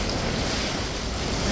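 Floodwater rushes during Hurricane Melissa in Jamaica, a dense, steady roar close by with heavy wind buffeting the microphone.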